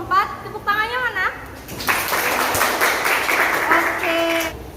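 Students in a high school Islamic education classroom break into applause for group 4, a dense wash of clapping that swells after a voice and a teacher's prompt and carries on steadily for several seconds.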